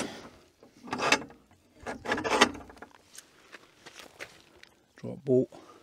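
A metal gate fitted with wooden slats swings shut, giving several rubbing, scraping creaks of the hinges and a final heavier knock as it closes, close by with a voice talking around it.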